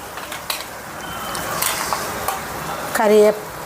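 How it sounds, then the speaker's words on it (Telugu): Goat tripe frying in a pot, giving a soft, continuous crackle and sizzle with scattered sharper pops and clicks of stirring, and a brief voice near the end. "కుండలో పొట్టపేగులు పటపటా అంటున్నాయి"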